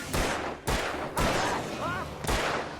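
Loud video game gunshots in Alan Wake, four heavy booming blasts spaced about half a second apart, each with a long rumbling tail, close and dominant.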